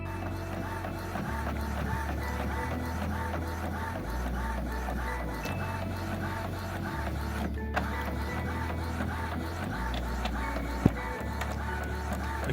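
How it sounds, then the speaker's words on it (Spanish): An inkjet printer prints a sublimation transfer for a mug, running steadily with a low stepping hum that shifts pitch every second or so beneath a continuous whirring carriage, plus a single sharp click near the end. "Volvemos en cuanto termine de imprimir."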